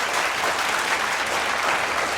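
A large auditorium audience claps steadily and loudly for the full stretch, a dense continuous wash of applause with no voices standing out, at a Tamil health talk on preventing heart attacks.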